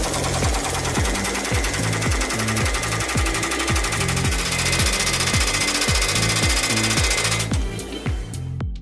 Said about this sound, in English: Let's take a look at the hot riveting technology.